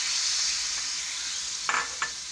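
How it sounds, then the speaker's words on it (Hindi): Tamarind juice goes into a hot frying pan on a stove, giving a steady hissing sizzle with two short, sharp splashes near the end. "ये देखिए, चूल्हे फ्राई पैन के अंदर हम इमली का रस डालेंगे।"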